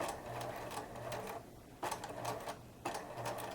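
A sewing machine runs slowly over scrap fabric in bursts of rapid stitching, three runs separated by short pauses, close and moderately quiet with a faint motor hum.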